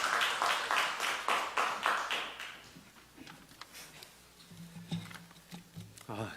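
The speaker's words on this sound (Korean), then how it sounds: "박수로 맞이해 주시기 바랍니다." A short burst of clapping from a small church group opens, fades within a few seconds, and gives way to quieter room sounds and a voice.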